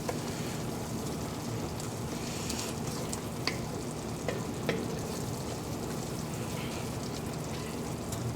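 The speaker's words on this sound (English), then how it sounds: "Let's give this a stir." Chicken tikka masala is stirred in a pot, giving a steady soft sizzling bubble with a few faint scraping clinks against the pot, continuous and fairly quiet.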